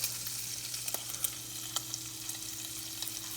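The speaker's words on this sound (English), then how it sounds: "as your bacon is rendering, we're gonna go ahead and we're gonna cook the pasta" Bacon rendering in a pan, giving a steady broad sizzle with occasional small pops and spits, close and constant without speech.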